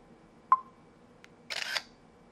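A Nokia 5800 XpressMusic phone camera takes a picture: a short beep, a faint tick, then a bright simulated shutter click-whir lasting about a third of a second, close and clear against near silence.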